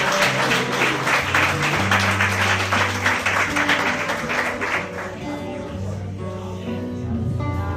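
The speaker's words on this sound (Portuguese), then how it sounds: "Você pode aplaudir o Senhor." Church congregation applauding together, a dense round of clapping that fades in the second half over sustained tones from a keyboard or organ, with light taps continuing toward the end.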